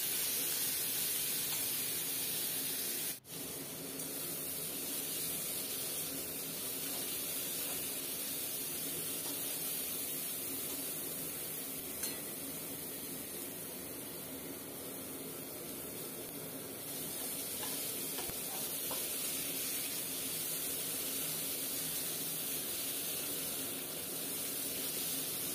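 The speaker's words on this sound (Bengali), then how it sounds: "দিয়ে প্রত্যেকটা জিনিসই বেশ ভালো করে একটু ভেজে নেব।" Tomatoes fry in a pan for a vegetarian sago pilaf, giving a steady broadband hiss and sizzle that stays continuous and fairly close for the whole stretch, with no talking.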